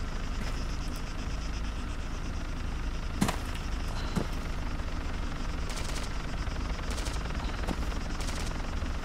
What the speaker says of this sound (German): Schießt du auf den Heli oder was?